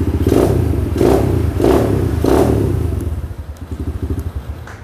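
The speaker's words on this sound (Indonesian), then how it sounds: "Ini udah double starter, electric starter bisa" A 110cc mini trail motorcycle cranks on its electric starter in four loud, even, rhythmic pulses, then the engine catches and settles into a steady, close, chugging idle.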